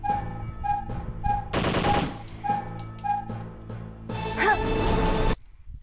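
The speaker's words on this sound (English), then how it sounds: "Bullets. Machine gun." Rapid machine gun fire from a House of the Dead spin-off arcade-style video game, coming in two loud dense bursts, with sharp repeated tones, a voice and a dog-like yelp between them.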